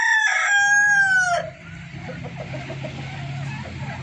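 A rooster kept with five hens crows loudly and close for about a second and a half, then the flock carries on with soft, steady background clucking and low murmuring.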